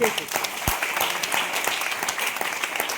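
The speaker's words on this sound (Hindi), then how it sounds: "एक बार जोरदार ताली होनी चाहिए" Audience applause at a direct-selling training seminar in a hall, a dense, steady patter of many hands clapping close by for a few seconds, with a voice heard over it.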